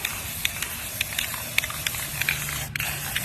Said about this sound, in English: You want to spray everything until it's dry, until it's gold